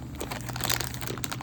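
A foil wrapper on a 1989 Topps baseball card super jumbo pack crinkles and crackles continuously as it is torn open at the hanger hole, close up and busy for about a second and a half.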